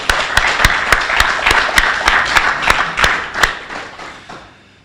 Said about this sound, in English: Can we give a little round of applause to...